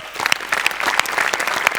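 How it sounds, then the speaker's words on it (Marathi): An audience in a studio setting bursts into loud, close applause, a brisk crackle of many hands clapping for just under two seconds. "आज सेटसाठी एकदा जोरात टाळ्या झाल्या पाहिजेत."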